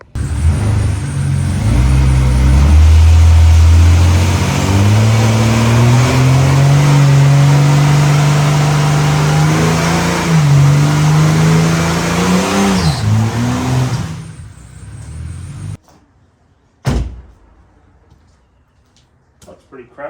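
Ford AU car revving hard in a shed doing skids, a loud sustained engine roar with rising and falling pitch for about fifteen seconds, then cutting off to quiet with a brief sharp bang near the end; some voice underneath.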